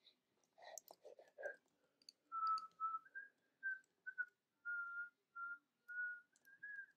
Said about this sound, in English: I just love whistling.